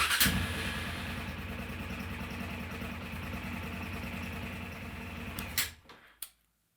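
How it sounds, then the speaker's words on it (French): A road motorcycle idles while warming up during an oil change, a close, steady, even engine putter running for several seconds before it is switched off and cuts out with a couple of clicks into silence. "On va pouvoir maintenant mettre la moto en route, la laisser chauffer un petit peu."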